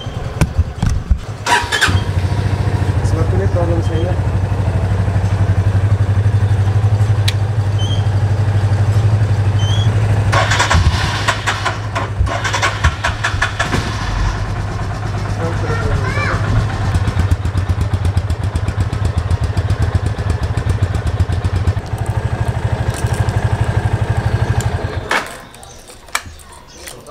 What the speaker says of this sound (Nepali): स्कुटरहरूमा प्रब्लम हुन्छ होइन, किक हानेर स्टार्ट गरियो, त्यो एकछिन हुँदै गरोस्।